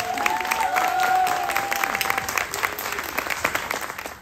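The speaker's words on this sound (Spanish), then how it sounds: "un fuerte aplauso a Karin Guerra, por favor." Audience applause at an immersive theater event, loud, sustained clapping from a crowd with some cheering voices mixed in, steady throughout and slowly thinning toward the end.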